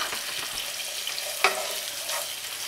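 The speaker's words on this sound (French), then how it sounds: "ma sauce est à chauffer, comme vous pouvez voir" Sauce for Moroccan-style liver, formed from the browned crust, heats in a pan with a steady close sizzle and one sharp pop partway through.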